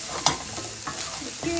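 Garlic added to a hot pan with onions, a steady close sizzle with a few brief stirring clicks.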